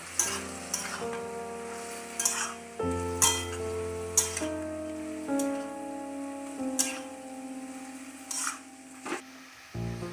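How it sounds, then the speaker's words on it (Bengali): Red amaranth greens with green chilli and mustard paste are stirred in a pan, the spoon scraping and clinking against the metal in repeated strokes over a soft sizzle. "সর্ষে বাটাটা দিয়ে ভালো করে আবারও নেড়ে চেড়ে মিশিয়ে নেব"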